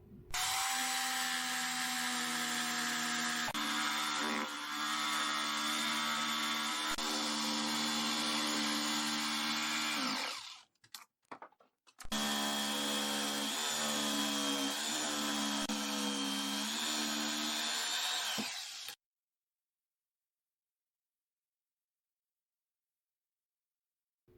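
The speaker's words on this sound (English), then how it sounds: "I cut them out with my jigsaw." A power jigsaw buzzes steadily through wood, cutting out rocking-horse pieces, for about ten seconds, stops briefly, then resumes for several more seconds before cutting off into silence.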